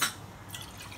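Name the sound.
milk being poured into water in a pot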